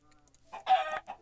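Chickens cluck in a video game, a short burst of clucking at moderate volume about halfway through, with a few faint game sounds around it.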